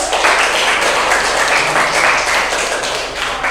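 A classroom of students gives a round of applause for a presenting group, continuous scattered clapping with a light rustle of voices, fairly loud and even throughout.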